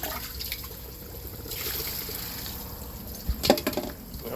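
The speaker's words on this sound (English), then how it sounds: "We'll water our chocolate and our peppermints." Water poured onto chocolate mint and peppermint plants in an aquaponics setup, a steady trickle and splash close by that swells and fades, with a brief louder splashing near the end.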